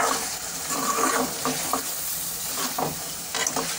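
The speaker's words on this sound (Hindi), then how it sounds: "और वन टेबल स्पून में इसमें ज़ीरा पाउडर ऐड कर रही हूँ हम अब इसको अच्छी तरह से मिला लेंगे" A cooking mixture with a tablespoon of cumin powder being stirred in a pan, with soft continuous sizzling and repeated scraping strokes of the spoon, close up and with no talking.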